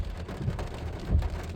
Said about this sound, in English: The rain's slowing down a little bit right now.